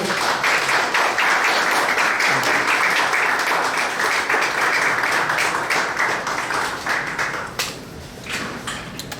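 Applause from the audience at a Korean church organizing committee press conference, a dense, sustained round of clapping that holds strong for several seconds before thinning out near the end.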